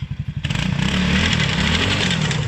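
An Apachi 4x2 ATV engine putters in quick, uneven pulses, then revs sharply into a loud, sustained roar with a rattly edge, close by and with no voices.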